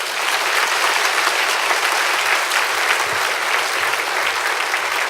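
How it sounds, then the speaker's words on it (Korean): Church congregation at an evening revival meeting giving a big round of applause to welcome a visiting pastor, loud, dense clapping sustained evenly from start to finish. "우리 귀한 목사님 나오실 때 큰 박수로 한번 맞이하시겠습니다"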